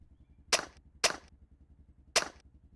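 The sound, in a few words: silenced pistol shot in video game Project Zomboid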